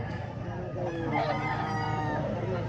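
A gamecock rooster crows loudly and close by in one sustained call, with a busy outdoor background and faint voices.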